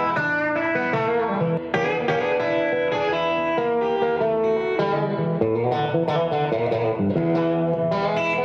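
A Grez Mendocino electric guitar with gold foil pickups plays a full, sustained passage with chords and melody, loud and up front with a wash of effects and reverb and no talking.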